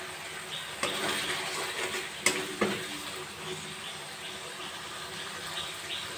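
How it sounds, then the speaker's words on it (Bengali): Spice masala with cumin powder frying in a pan, a steady soft sizzle under a few sharp spatula knocks and stirring scrapes, close by and without speech. "2 মিনিট ভালো করে মশলাগুলো কষিয়ে নেব।"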